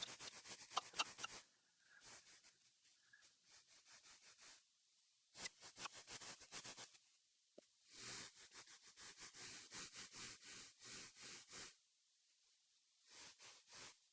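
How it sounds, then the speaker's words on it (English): Hand sanding a piece of wood by hand: bursts of dry, scratchy rubbing strokes in uneven runs, separated by short quiet pauses, close and fairly soft with no talking. "hand sanding does create a lot of sawdust"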